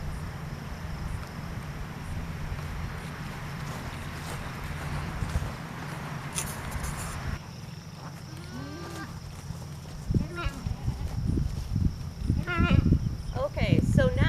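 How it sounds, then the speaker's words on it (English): Goats in a pasture bleat and call in several short, wavering cries in the latter half, close by, after a stretch of steady low background hum; a person speaks at times. "As you can see in the background, I have some goats."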